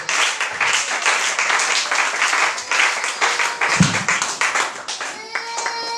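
Church congregation clapping and applauding at a sermon, dense continuous applause close by throughout, with a brief tonal whistle-like sound near the end.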